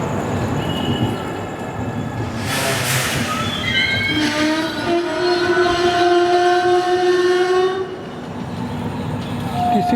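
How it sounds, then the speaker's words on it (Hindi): Mumbai–Ahmedabad Double Decker Express pulling out of Bharuch Junction on a curved platform, its horn sounding in long sustained blasts over the steady rumble and clatter of rolling carriages. "चेन पुलिंग इंसिडेंट के बाद 6:55 पर हमारी ट्रेन निकली है"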